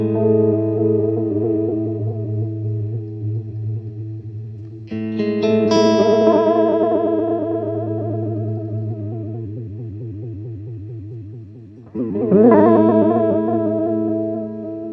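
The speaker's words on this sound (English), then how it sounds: "That is the Chase Bliss Audio Tonal Recall pedal" Electric guitar runs through a Chase Bliss Audio Tonal Recall analog delay pedal: sustained chords swell and warble with wobbling, pitch-shifting echoes, then a fresh strummed chord rings out near the end, loud and with no voices.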